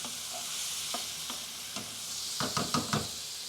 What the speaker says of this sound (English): there's my prawns just cooking away there nicely